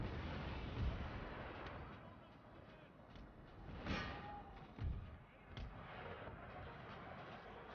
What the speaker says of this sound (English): One more shot by the cannons, come on!